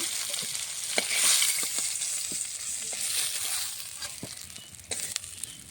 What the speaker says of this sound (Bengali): মাছ ভাজা হয়ে গেছে সম্পূর্ণ